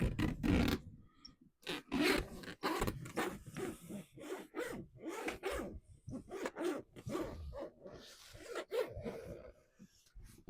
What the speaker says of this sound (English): Brand new curing shed, and the zipper's already broken.